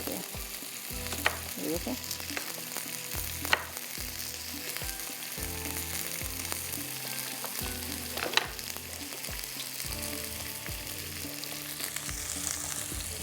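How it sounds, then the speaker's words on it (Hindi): Green chilies fry in hot oil in a pan for chili chicken, a steady crackling sizzle with repeated low scraping thumps of stirring, and someone briefly speaks. "ये मैं डाल रही हूँ इसके अंदर ये ग्रीन वाली चिलीज़ भी, थोड़ा सा फ्राई करके इसको निकालते हैं।"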